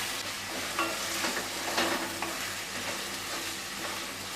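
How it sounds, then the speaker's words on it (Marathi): Ginger garlic paste is sautéed in a pan with softened onion and tomato for chicken sukka, giving a steady close sizzle with a few spatula scrapes and clicks. "आता यामध्ये आलं लसणाची पेस्ट काढूया हे सुद्धा परतून घ्यायचे आहे"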